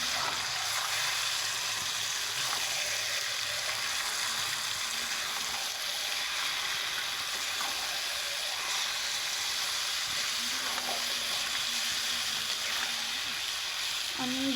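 Potatoes and chicken sizzling steadily in a pan, a continuous hiss of frying with faint stirring and scraping, close and fairly quiet throughout.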